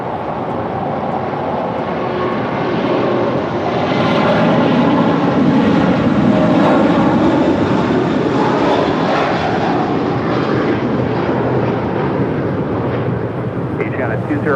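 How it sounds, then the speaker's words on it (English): A Korean Air Airbus A380 jet takes off from an airport runway, a loud, sustained engine roar that swells and holds steady, with radio chatter from air traffic control heard faintly beneath it. "This is Korean Air Flight 18 Super departing to Seoul on the A380"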